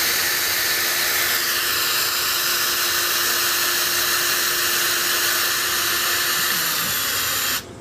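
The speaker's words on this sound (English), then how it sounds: "these are very fine drill bits, so we don't want to be putting too much pressure on them" A small power drill spins a very fine bit into an oak chair rung, a steady high whine that runs unbroken for several seconds before cutting off abruptly at the end, with no voices.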